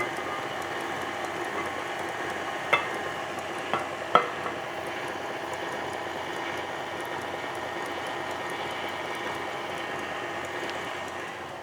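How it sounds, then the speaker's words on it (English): Black Forest cake filling slowly mixed in a pot, giving a quiet steady bubbling hiss with a few distinct spoon clicks against the side, close and without voices. "and slowly mix this in."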